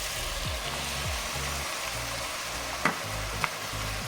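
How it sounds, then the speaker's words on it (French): A pan is deglazed with calvados while a wooden spoon scrapes the bottom, giving a loud, constant frying hiss with low droning tones beneath and two brief clicks near the end. "on va avec une cuillère en bois gratter le fond"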